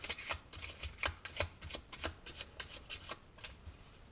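A deck of playing cards is riffled and mixed for a magic trick, making a quick string of close, crisp papery flutters in an uneven rhythm, heard alone and fairly quiet.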